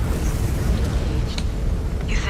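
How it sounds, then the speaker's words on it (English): Explosions in the mech combat game MechWarrior 5: Clans, a dense, continuous rumbling roar of blasts with low booming weight, loud and close, no talking over it. "Or the explosions alerted them."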